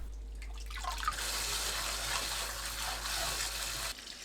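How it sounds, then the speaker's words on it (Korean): Cold water runs steadily from a kitchen tap as green laver seaweed is swished and rinsed by hand for a Korean radish pancake, a constant close gushing splash that cuts off abruptly near the end. "찬물에 흔들어가면서 여러 번 헹굽니다"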